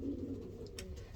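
Racing pigeons in a loft give soft, low cooing close by, a steady murmur with a brief higher rustle near the end, no one talking.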